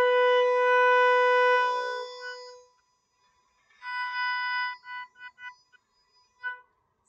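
An oboe sounds a single sustained B, clear and close, followed after a pause by a few shorter detached notes.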